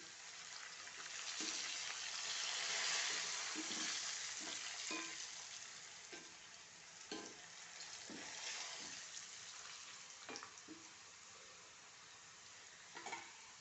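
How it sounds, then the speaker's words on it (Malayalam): Cassava fry sizzling steadily in a pan with curry leaves, with periodic scraping and clinks from stirring at close range; no talking. "ഇടയ്ക്കൊന്ന് ഇളക്കി കൊടുക്കുക ഇതിലേക്ക് കുറച്ച് കരിവേപ്പില ഇടാം"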